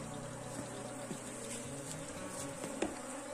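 A honeybee swarm from a freshly split hive buzzes steadily and close, a dense continuous drone with a few louder passes of single bees near the listener.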